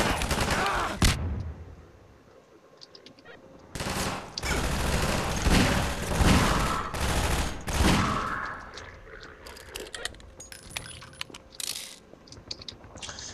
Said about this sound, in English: I'm gonna use my gun here because I'm saving my shotgun for good moments